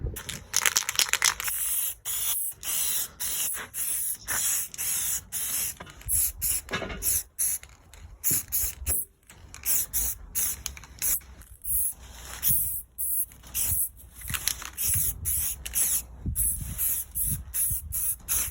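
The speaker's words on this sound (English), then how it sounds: "So we've got the back plate and the trim rings now painted." Spray paint hisses in repeated close bursts while coating a headlight back plate and trim rings for quad LED headlights on a MK3 Ford, the sprays separated by brief gaps and clicks.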